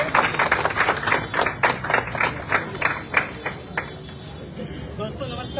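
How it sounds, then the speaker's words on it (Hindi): An audience applauds for Dharmendra at an AWPL gathering, a burst of many hands clapping that rises strongly and then thins out over several seconds, with a faint murmur of voices beneath. "एक बार जोरदार तालियां धर्मेंद्र जी के लिए हो जाए"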